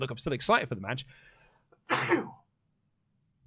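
A single sharp sneeze bursts out between stretches of a man's conversational speech on a podcast set, short and close to the microphone.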